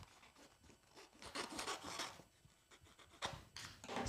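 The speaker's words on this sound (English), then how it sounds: "we're going to take our transfer tape and cut a little piece off for us" Scissors snip and rasp through a piece of Cricut transfer tape in a quiet room, with short scraping cuts and rustling strokes coming close, faint and irregular.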